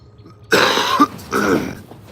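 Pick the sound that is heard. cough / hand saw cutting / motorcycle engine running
cough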